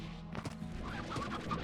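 Hens cluck softly in the Slime Rancher video game, a few faint, short clucks over quiet background ambience.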